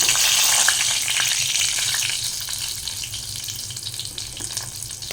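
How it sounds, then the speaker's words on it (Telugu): Cut eggplant pieces hitting hot oil set up a loud, steady sizzle that slowly eases, with a few faint stirring clinks over the continuous crackle. "మూడు వంకాయల్ని ఇలా కట్ చేసి పెట్టుకున్నా ఇప్పుడు మనం వీటిని ఆయిల్లో వేసుకుందాం"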